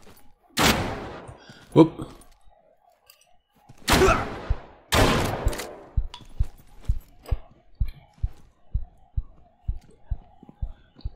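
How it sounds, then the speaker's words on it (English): Gunfire in the survival shooter Deadside: a few loud, sharp shots with echoing tails, then a long sequence of evenly spaced single shots, more distant and quieter, with a brief exclamation from a voice. "Where the heck are they shooting from?"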